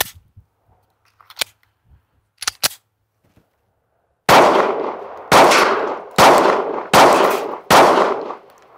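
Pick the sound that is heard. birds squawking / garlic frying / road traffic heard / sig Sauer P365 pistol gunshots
sig Sauer P365 pistol gunshots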